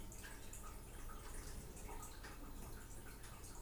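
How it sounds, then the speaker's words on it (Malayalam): Grape milkshake trickles through a juice strainer in a soft, continuous liquid patter with faint dripping, close and quiet, no voices. "അതിലോട്ട് ഇത് ഒഴിച്ചിട്ട് നല്ലതായിട്ടൊന്ന് അരിച്ചെടുക്കണം"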